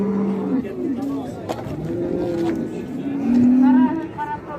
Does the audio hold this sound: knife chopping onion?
no